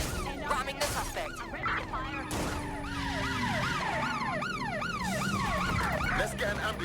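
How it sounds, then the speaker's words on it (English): Loud wailing ambulance siren sweeping up and down repeatedly in the video game Watch Dogs: Legion, with crashes and engine noise early on, in a busy street scene. "Let's get an ambulance for this civilian."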